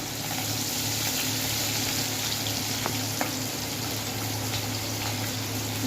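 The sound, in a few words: black mustard and nigella seeds frying in a pan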